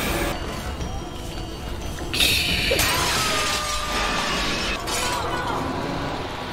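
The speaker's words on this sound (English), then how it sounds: "Now we get a mirror and shatter the reflection?" A mirror is smashed in a TV drama scene, with a bright burst of breaking glass over a busy background of music and ambient noise.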